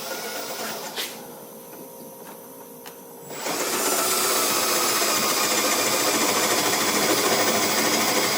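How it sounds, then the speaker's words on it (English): A 7/16 drill bit boring a bolt hole through a steel bracket while installing a body lift on a 2006 Chevy Silverado 4x4; a lighter whir first, then a loud, sustained drilling roar from about three seconds on. "He's going to take a 7/16 drill bit and drill through that to line his other bolt hole up."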